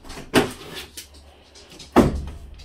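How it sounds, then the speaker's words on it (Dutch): A door to a balcony being opened, with two distinct bangs of the handle and frame about one and a half seconds apart, heard close by in a quiet room. "Dat was mijn deur."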